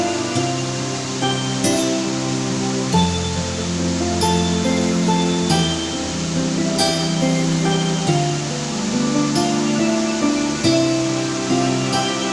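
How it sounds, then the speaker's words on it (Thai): Waterfall at Tad Ruesi in Champasak, southern Laos, a steady broadband roar of falling water that runs loud and unbroken throughout, with music-like tonal layers over it and no speech. "เดี๋ยวเบิ่งความงามของน้ำตก"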